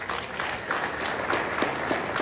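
Sustained audience applause fills a hall during a French-language political speech on Africa, a dense, steady crackle of many hands clapping close and loud for the whole stretch.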